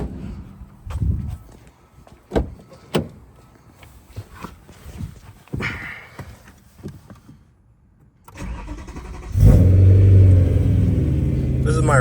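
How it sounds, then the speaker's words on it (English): After some clicks, door sounds and footsteps, a BMW E90 M3 engine with a Bomiz exhaust cranks and starts, then settles into a loud, steady rumbling idle nearby. "I might actually just start it up and give it a few revs"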